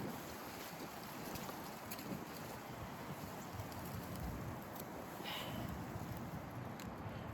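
Steady outdoor wind roars in a garden, producing continuous broadband buffeting and rumble across the microphone with no distinct pauses.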